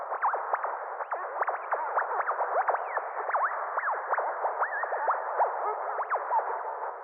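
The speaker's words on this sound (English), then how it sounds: "I called it otherworldly static" An isolated otherworldly static effect from a music track: a band-limited crackling hiss threaded with rapid chirping, swooping tones, steady and fairly loud with no other sounds.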